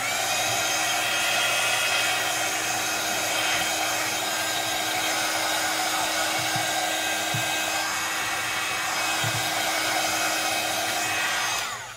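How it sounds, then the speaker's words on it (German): A hair dryer blows steadily on a handmade paper card for men, a continuous close whirring hiss that holds level for about twelve seconds before cutting off at the end. "Und nochmal föhnen."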